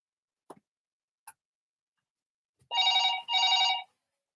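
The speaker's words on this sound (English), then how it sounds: "Listen now if it's the house phone." House telephone ringing indoors, two long electronic trill bursts back to back, loud and close, after a couple of faint clicks.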